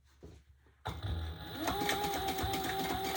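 A sewing machine stitches a pocket onto an unlined leather tote, starting abruptly after a quiet handling moment and then running as a steady, close mechanical whir with a rising motor hum.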